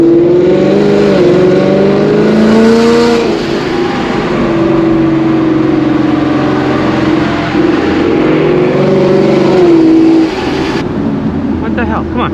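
At night, a straight-piped Ford Mustang S550 revs its exhaust loud and close, the raspy engine note climbing and falling through several long pulls, with voices heard briefly around it.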